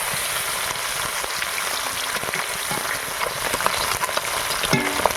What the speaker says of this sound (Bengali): ভালো করে লাল লাল করে ভেজে নেবো মাছটাকে।